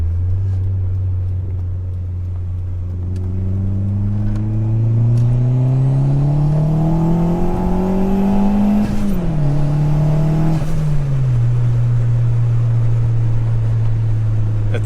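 A Honda Jazz 1.5 Turbo revs up alone at close range, its engine note climbing steadily to a peak before dropping back and settling into a high, sustained drone.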